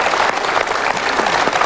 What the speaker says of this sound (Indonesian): kita berikan tepuk tangan untuk jawaban dan pilihannya